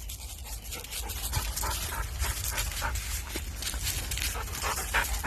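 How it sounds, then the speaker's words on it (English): Several dogs play together outdoors, their steady panting and occasional soft whimpers running continuously at close range, with no talking. "So my daughter just dropped her dog off. They're all out here playing now."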